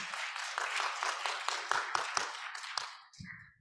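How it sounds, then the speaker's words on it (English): Audience applause for a keynote speaker at a national symposium, a short burst of clapping that tapers off, with a brief voice at the end. "let's give a round of applause to our speaker"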